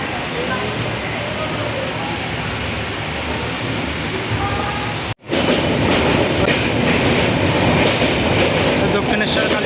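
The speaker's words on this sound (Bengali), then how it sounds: "তো আমাদের ট্রেন ছেড়ে দিল পুরো" A passenger train departing a station rolls steadily along the rails with a continuous loud rumble and clatter, a brief dip midway before the steady, close wheel noise resumes; speech-like sounds are buried in the din.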